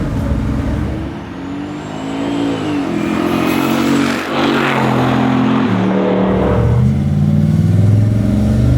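A twin-turbo 1967 Chevy Nova restomod accelerates hard, its loud engine note climbing steadily through the revs with a brief dip like a gear change midway, then pulling on strongly, heard up close with no talking.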